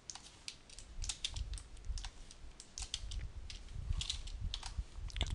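Keys on a computer keyboard tapped in short, irregular bursts during 3D modeling work, a scattered run of crisp clicks with brief pauses, close and fairly quiet over a low room hum.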